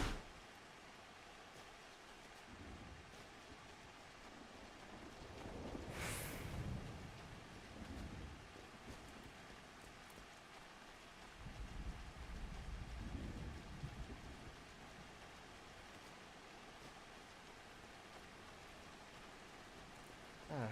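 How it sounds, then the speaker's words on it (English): Video game rain falling steadily as a faint, even hiss, with soft low swells rising and fading over about twenty seconds. "How can you guys stand in the rain?"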